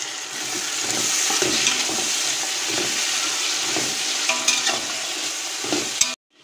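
Chicken fries in oil in a pan while its water cooks off, a loud, even sizzle with faint stirring scrapes that cuts off abruptly near the end.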